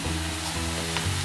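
Dill-leaf vegetable frying in a pan while being stirred, a dense, loud continuous sizzle with a faint scrape of the spoon in a short burst.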